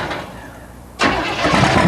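A demolition derby car's engine cranks and catches at about the midpoint, then settles into a loud, steady idle with broadband roar after a quieter stretch of background noise.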